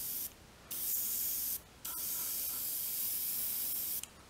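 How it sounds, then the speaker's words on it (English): Airbrush sprays paint onto a model figure in close, steady hissing bursts, with a few short gaps between passes and no talking. "So I can just airbrush this on here."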